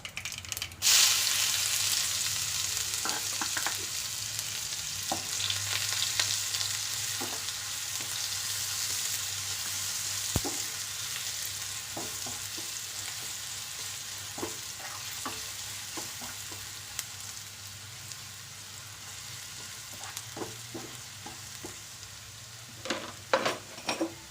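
Chopped onions frying in a pan for a banana curry give a steady, loud sizzle throughout, with occasional soft scrapes and clicks of stirring and no talking.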